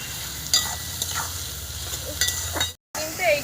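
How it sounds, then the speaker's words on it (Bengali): Mutton fat sautés in a pan with turmeric and salt, a low sizzle broken by a few scraping stirs, with one brief dropout near the end. "কিন্তু এই যে আমি কষে নিচ্ছি।"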